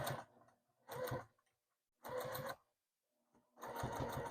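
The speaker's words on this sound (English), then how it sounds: "I'm just going to back stitch over this thing, keep it nice and secure." A sewing machine back stitches an oven mitt in four short bursts of rapid mechanical chatter, separated by silent pauses, close and clear.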